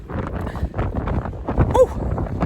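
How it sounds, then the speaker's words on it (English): Wind buffets the microphone on a downhill walk on an outdoor trail, a steady, close rumbling roar with gusty swells throughout and no clear voices. "Getting a bit windy."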